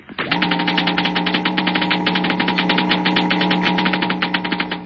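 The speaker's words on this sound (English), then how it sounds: "The crackling comes from a model atom smasher" A model atom smasher giving off a dense, rapid electrical crackle, loud and close, crackling steadily without a break and heard alone.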